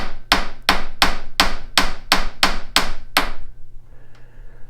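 Knurled lock-down nuts made on an Axelson lathe get their burrs tapped down. About eight sharp, evenly spaced metallic taps ring out close and loud over a low machine hum, then stop.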